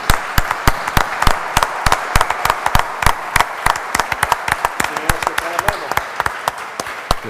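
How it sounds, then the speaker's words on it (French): Sparse, distinct hand claps ring out at the close of a French conference speech, sharp individual strikes at an irregular, fairly quick pace, close and loud, with faint voices murmuring beneath. "Je vous applaudis."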